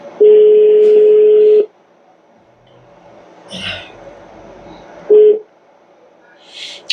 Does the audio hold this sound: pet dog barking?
no